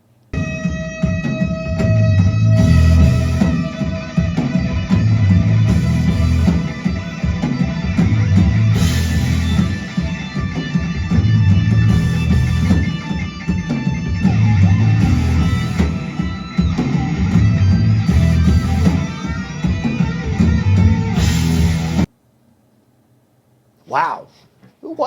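A 7-string electric guitar pushed loud through heavy distortion plays sustained, rhythmically pulsing chords for about twenty seconds, then cuts out abruptly to near silence with a brief noise after.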